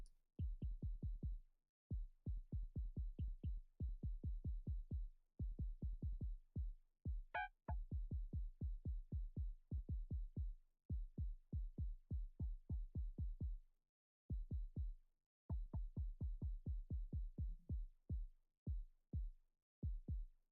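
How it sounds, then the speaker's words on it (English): FM synthesis synth tone built from a sine wave for a melodic dubstep track, with weird artifacting: rapid repeated percussive pulses in irregular bursts, loud and close, with a brief high glitchy chirp midway and no talk. "Unfortunately, it has some weird artifacting."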